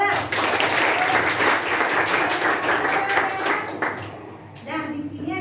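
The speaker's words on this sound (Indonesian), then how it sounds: "tepuk tangan untuk Aura" A classroom of students applauds their classmate Aura after her presentation, steady dense clapping that fades out near the end, with voices mixed in beneath.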